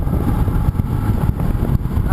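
A Honda CTX700 motorcycle's engine runs steadily while riding, a low throaty drone with faint wind noise, continuous and fairly loud for the short stretch.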